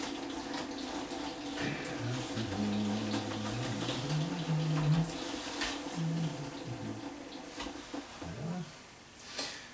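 Plain cold water runs steadily into a kitchen container while doenjang is being made, a continuous close splashing wash with a low hum underneath and no talking.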